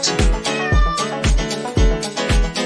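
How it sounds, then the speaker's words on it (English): A cat meows several times in a row, loud and close, each cry drawn out and evenly spaced, set against children's song music. "C is for cat."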